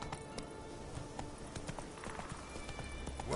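Horse hooves clip-clop at a steady walking rhythm in The Witcher video game, fairly quiet, with a game soundtrack and ambience beneath.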